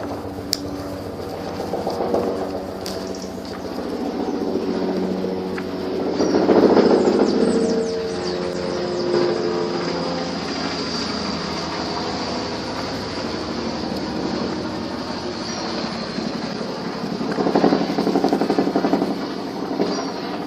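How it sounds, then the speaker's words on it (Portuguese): An aircraft's broad, droning rumble fills the air, swelling as it passes overhead and then again later, with no voices. "Avião, helicóptero,"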